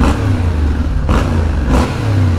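Yamaha Ténéré 700 World Raid motorcycle engine revving loudly and close, a steady mid-pitched drone with a couple of short throttle blips.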